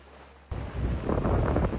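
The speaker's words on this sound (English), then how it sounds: "Third day on the beach. It's windy." Wind gusting across an open beach, a steady rough rumble that jumps in loudness about halfway and stays strong and close on the microphone, with no voices.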